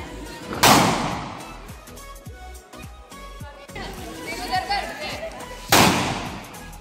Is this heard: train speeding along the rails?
no